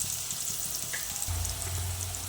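Potatoes frying with green chillies and turmeric in a pan over a lowered flame give a soft, steady sizzle with a faint low hum and a light clink, no voices.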